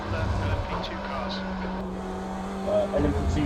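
LMP2 prototype race cars rush past at Road Atlanta in a sim racing game, a steady engine drone rising and falling beneath a commentator's voice.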